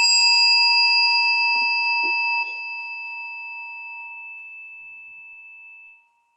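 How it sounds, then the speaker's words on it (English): A single gong stroke opens a moment of silence at a luncheon, ringing out with a bright metallic shimmer and a long, steady sustain that fades over about six seconds, with a few faint low knocks early on. "I'm going to start this moment of silence with a gong"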